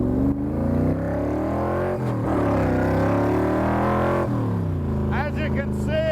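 A 1965 Shelby Cobra's engine rumbles loudly and steadily, with a deep, throaty exhaust note that rises and falls through a few revs, heard up close.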